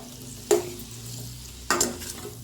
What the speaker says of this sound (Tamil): இந்த பன்னீரை போட்டு நம்ம லைட்டாக அப்படி கோட்டிங் போட்டு ஒரு 3 நிமிஷத்துக்கு ஃப்ரை பண்ணி எடுத்துக்கலாம்